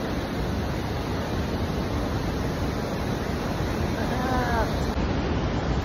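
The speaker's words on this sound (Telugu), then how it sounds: "ఇది ఫ్రెండ్స్ అత్రేపల్లి బాహుబలి వాటర్ ఫాల్స్." Athirapally waterfall, known as the Bahubali falls, roars as a dense, steady rush of falling water, loud and unbroken throughout, with a brief thin whistling tone near the end.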